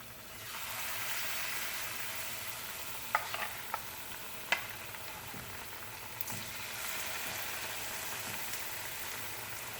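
Ripe banana fritters frying in oil, Jamaican style, giving a steady quiet sizzle with a few soft clicks and taps over it and no talking.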